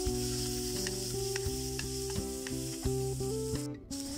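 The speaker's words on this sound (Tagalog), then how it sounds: "inumpisan ko na ang pagigisa" Garlic and then onion sauté in a hot pan for a mussel dish, a loud, steady sizzle with faint stirring clicks scattered throughout.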